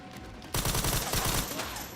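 Sustained automatic gunfire in the survival horror game Resident Evil 9: Requiem, a dense loud burst of rapid shots that erupts after a quiet half second and keeps hammering to the end.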